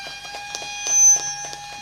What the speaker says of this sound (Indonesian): selanjutnya berkenan Ibu Bupati untuk menekan tombol sirene dalam hitungan